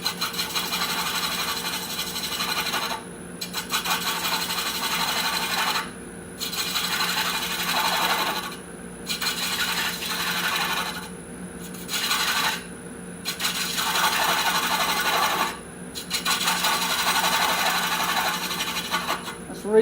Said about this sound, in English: we got to take very light cuts. It's always good to use a sharp gouge. I'm using a 1/2 inch bowl gouge.